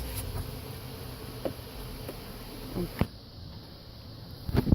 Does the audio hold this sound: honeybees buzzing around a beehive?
yes